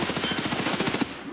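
Rapid automatic fire from a Heckler & Koch gun in Escape from Tarkov: a fast, even string of loud close shots for about a second, then a brief ringing tail.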